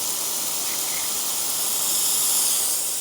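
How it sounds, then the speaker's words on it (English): Lawn sprinkler spraying water in a yard, a steady, loud, close hiss of fine spray that holds constant throughout with no talking. "I'm gonna adjust down the spray"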